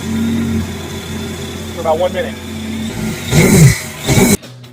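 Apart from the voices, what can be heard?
personal watercraft engine idling and revving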